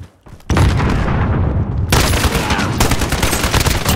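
Gunfire in Call of Duty Modern Warfare, a loud close burst of rapid automatic shots after a brief quiet start, then dense continuous firing with a short dip before another sustained volley.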